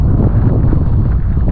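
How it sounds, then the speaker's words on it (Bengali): Strong wind blowing on the Mullayanagiri hilltop, buffeting the microphone in a steady, loud, low rumble that never lets up. "এখানে প্রচণ্ড হাওয়া দিচ্ছে।"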